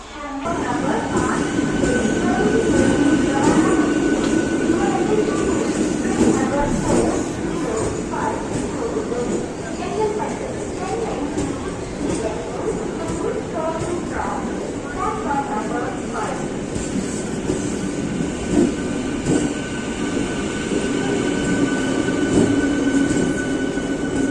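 A Nagercoil–Tambaram special fare express train rumbles steadily along the rails near Chengalpattu Junction with a continuous low roar and faint rhythmic clatter, heard from on board, with voices murmuring underneath.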